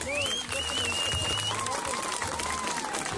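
Audience applause during an agency tournament in San Isidro, Oaxaca, a steady wash of clapping under whistles and shouting voices, moderately loud and continuous.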